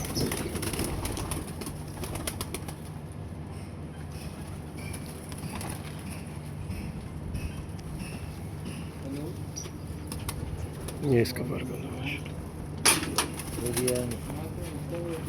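Pet pigeons, including a female bird, coo softly in a loft, low repeated calls that carry on under a voice talking over them.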